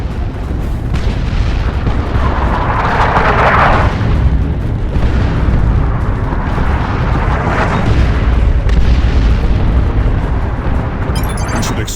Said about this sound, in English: Artillery! Clear the area!